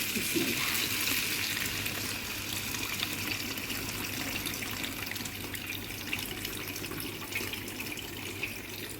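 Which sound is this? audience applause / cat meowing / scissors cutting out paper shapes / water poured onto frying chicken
water poured onto frying chicken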